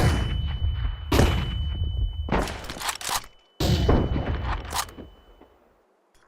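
In a tactical shooter video game, a flashbang grenade bursts amid bursts of gunfire, with loud sharp cracks and blasts separated by short gaps, followed by a fading tail and near silence.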